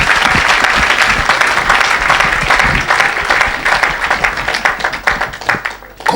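A church congregation claps and applauds in acclaim of the Lord, a dense, loud, steady burst of many hands that holds throughout and eases slightly near the end.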